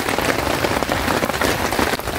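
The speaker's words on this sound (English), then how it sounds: "As you can hear on the tarp, torrential rain." Torrential rain hammers a tarp at night during a wild camping trip in a storm, a dense, loud, continuous patter with no voices.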